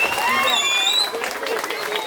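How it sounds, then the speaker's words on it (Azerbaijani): An audience at a regional freestyle wrestling event applauds in a dense burst of clapping that continues under a speaker's amplified voice. "Hörmətli tədbir iştirakçıları Aynur'u mən istəyərdim ki, bir də gürültülü alqışlarla alqışlayaq"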